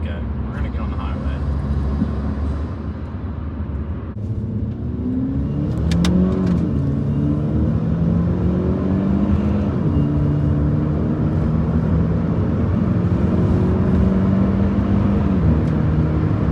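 A Kia Stinger 2.0T accelerating on the highway, steady engine drone rising in pitch through gear changes under constant road and wind noise, with people talking inside the cabin.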